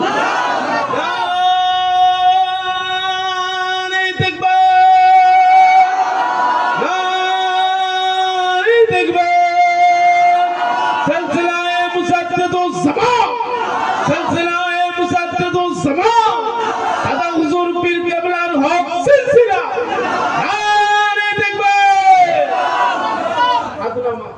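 A crowd at an Islamic religious sermon gathering loudly chants takbir in repeated, sustained amplified calls that rise and fall over about twenty seconds, with a lead voice among the group.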